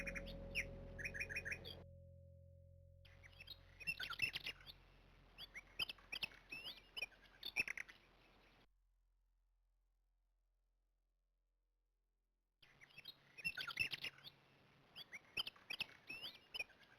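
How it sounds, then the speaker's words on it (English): Birds chirp and squawk in repeated bursts in Call of Cthulhu: Shadow of the Comet, cutting off into near silence for several seconds before the chatter resumes. "Chirpy birds."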